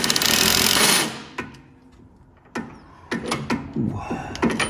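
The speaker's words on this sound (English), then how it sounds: "I'm just going to give her a couple more whacks with the impact." An impact wrench tightening a front strut bolt on a Mercedes C300, a loud sustained rattling burst close up, followed by shorter hammering bursts and clanks of tool handling.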